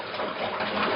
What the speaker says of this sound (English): now I'm basically allowing the water to backfill our equipment